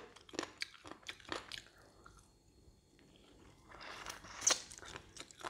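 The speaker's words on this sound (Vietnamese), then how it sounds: "Nhai thử cho nó có kêu không?" Someone chews crispy fried pork cracklings, with a series of soft, close crunches and bites that come in irregular bursts against a quiet background, with no talk.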